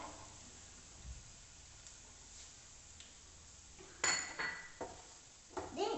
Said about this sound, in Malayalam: ഇനി നമുക്ക് ഇളക്കി കൊടുക്കാം.